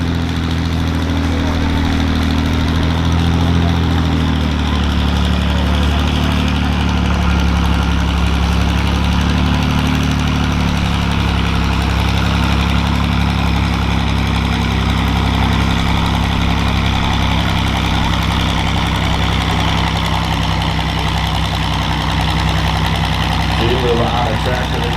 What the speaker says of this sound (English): I believe that's a 4010 John Deere there.